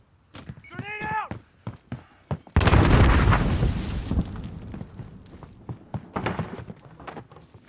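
A grenade explosion in a first-person shooter bursts loud and broad after a shouted callout, its boom decaying over a couple of seconds, with voices and thumping game sounds around it.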